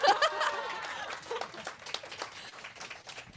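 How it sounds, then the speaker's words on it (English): Audience at a book launch breaking into applause mixed with laughter and chuckles, clapping strongest at the start then thinning into scattered claps and giggles. "Applause again."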